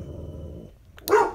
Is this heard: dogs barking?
yes